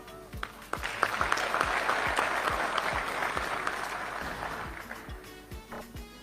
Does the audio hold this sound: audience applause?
yes